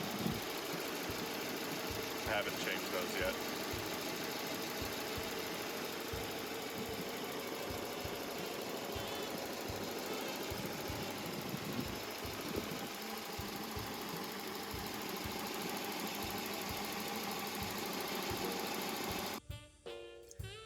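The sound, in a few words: car engine with rough idle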